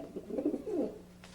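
A pigeon coos alone in a soft, rolling call of a few throaty notes, fairly close and clear against quiet surroundings.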